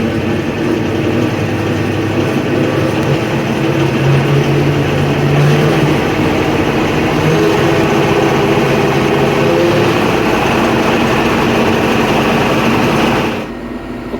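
A tractor engine driving a brush hog mower runs loud and steady as it is raised to a PTO speed of about 2,000 RPM. A continuous heavy drone with a gradual pitch rise lasts until it cuts off near the end, with no talk.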